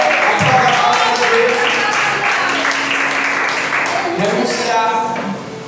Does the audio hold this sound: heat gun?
no